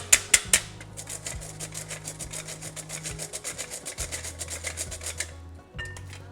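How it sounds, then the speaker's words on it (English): Flour, baking soda and salt for soda bread are pushed through a sifter, giving a rapid, regular scraping rasp that repeats close by and stops briefly before resuming. "We'll just continue to sift that."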